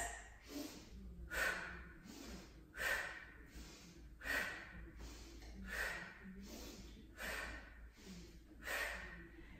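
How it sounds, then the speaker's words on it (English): During kettlebell swings a person breathes forcefully, a rhythmic series of about seven sharp hissing inhale-exhale bursts spaced evenly, close and clear, with faint movement underneath. "sharp inhale between the legs, and you exhale up like this"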